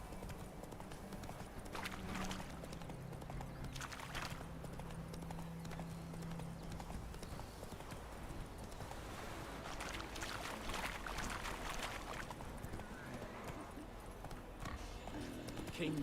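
Horse hooves clip-clop steadily as a horse gallops in The Witcher 3, a continuous rhythmic beat under game music and ambient noise.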